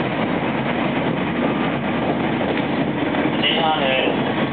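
JR West 225 series train with Toshiba electrics running between Ashiya and Osaka, a steady interior rumble of wheels and motors, constant and moderately loud, with a faint tonal whine near the end.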